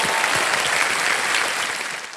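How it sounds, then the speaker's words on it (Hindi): A studio audience on a televised quiz show claps in a dense, sustained burst of applause, loud and close, fading slightly toward the end. "एक बार जोरदार तालियां बज जाए तो जिंदर जी की।"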